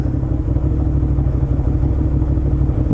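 A motorcycle engine idles loud and close just after a first ride, a steady rough low rumble with a slight mechanical clatter and no voices.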